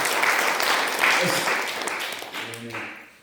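A retreat congregation claps for God in a short burst of applause that fades over about three seconds, with voices and a brief exclamation rising near the end.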